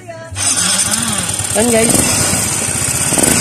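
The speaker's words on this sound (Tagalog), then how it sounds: "So on natin yung ignition and pandarin na natin, tumunog na yung injector." Yamaha Mio Soul i 125 scooter engine cranking and starting after a brief pause, then settling into a steady, loud idle close by, with someone talking over it.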